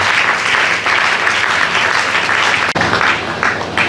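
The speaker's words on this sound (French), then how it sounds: "Est-ce que tu peux acclamer?" A church congregation applauds during a Sunday service, a steady, dense wash of clapping from many hands that fills the room without pause and stays loud throughout.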